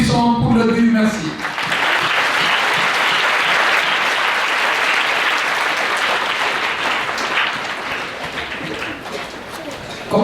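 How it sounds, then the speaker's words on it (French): A church congregation at a diocesan children's pilgrimage Mass at Mont Rolland breaks into loud, sustained applause for the helpers, dense clapping lasting several seconds before tapering, after a voice speaks briefly at the start. "nous les applaudissons pour leur dire merci"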